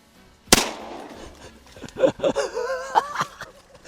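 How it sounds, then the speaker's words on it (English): A shotgun fires at greenhead mallards during a duck hunt in a flooded corn prairie pothole: one loud, sharp blast, with a second weaker report following. Voices and laughter come afterward. "We just shot 2 greenheads back to back"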